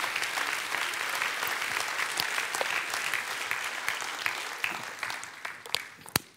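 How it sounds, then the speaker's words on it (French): Audience at a municipal New Year's greetings ceremony in Florange applauds local sports clubs, steady dense clapping throughout with a few sharper claps standing out near the end. "Et on peut vraiment applaudir les clubs sportifs qui nous font briller au quotidien."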